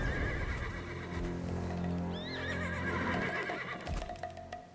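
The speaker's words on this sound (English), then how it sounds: "Horses won't budge thanks to that scary lot." Horses whinny and neigh in the Black Desert video game, several loud rising calls over a steady background, with a burst of hoof clatter near the end.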